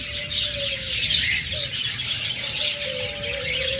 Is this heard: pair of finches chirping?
yes